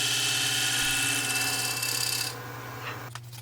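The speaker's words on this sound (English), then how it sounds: "I'm just smoothing out the inside of the bowl with the negative rake scraper here" Negative rake scraper smoothing the inside of a cherry wood bowl on a lathe, a loud close continuous rasping scrape over the lathe's steady hum, cutting out near the end as the motor keeps running.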